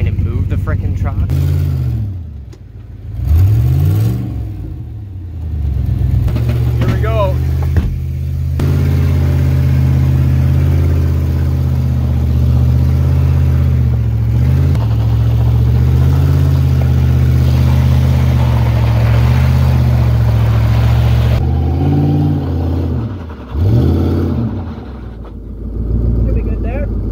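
A Dakota truck with a locked-up back end revs its engine in long, loud, sustained pulls, rising and falling, with people talking between the revs.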